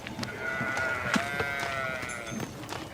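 A flock of sheep bleating, several wavering calls overlapping at moderate distance over a steady outdoor background, with no talk.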